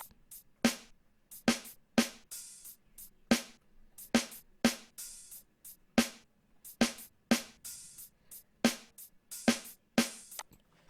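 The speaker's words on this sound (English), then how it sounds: "you'll have hi-hats and snares. And it will sound something like this." A quiet lo-fi drum pattern of snares and hi-hats plays alone, with crisp hits landing at a steady, loping rhythm that repeats through the whole stretch.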